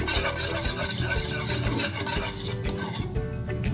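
Milk-based white sauce for pasta being stirred steadily in a pan, a continuous close scraping and swishing of the spoon against metal, with no talking.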